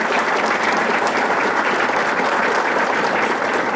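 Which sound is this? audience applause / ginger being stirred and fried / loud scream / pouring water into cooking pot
audience applause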